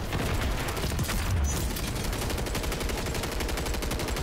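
LMG machine gun fire in Modern Warfare 3, a loud continuous rapid burst of shots in a fast even rhythm sustained throughout without pause.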